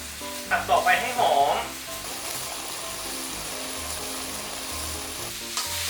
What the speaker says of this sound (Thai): จากนั้นเราก็ผัดต่อไปนะครับ